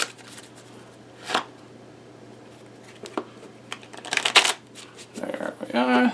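Playing cards being shuffled and mixed by hand for a card-on-coin magic trick, several short riffling bursts up close with pauses between, the last ones longer, while a person talks quietly.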